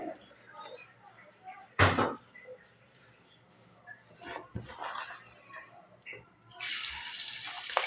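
Coriander leaves are rinsed in a kitchen sink, with a few sharp knocks and clatters before tap water gushes steadily toward the end, close by.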